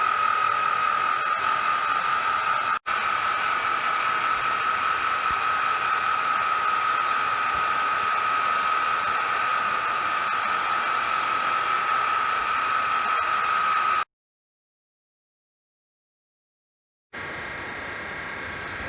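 A metal lathe turns a workpiece during a first cutting pass, giving a steady, even whine with a constant tone that runs unbroken, cuts out briefly, then resumes more quietly.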